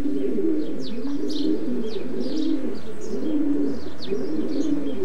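Young racing pigeons in a loft shed coo repeatedly in soft, throaty rolling calls, several birds overlapping at close range with occasional higher chirps.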